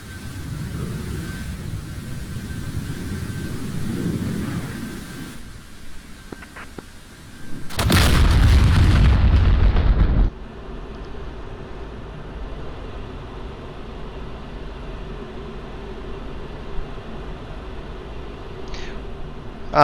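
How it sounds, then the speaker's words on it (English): Dumb bombs dropped from an F-16C Viper in the DCS World flight simulator during bombing practice: a loud, dense roaring burst lasting about two seconds, rising above a steady low cockpit and engine rumble. "You can hear the bombs release off the rail."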